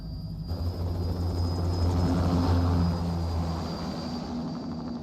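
An aircraft in Metal Gear Rising: Revengeance lifts off with a steady, droning rotor-like roar and low rumble, swelling slightly midway and holding loud and close throughout, with no talking.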